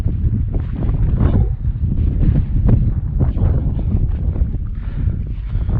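Strong mountain wind roars and buffets the microphone on a Himalayan trail near Annapurna, loud and steady with gusty swells, with no voices.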